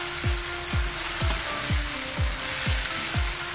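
Corned beef frying and sizzling in a pan while being stirred, with a steady hiss and a series of regular scraping strokes from the spoon, close up and with no talking.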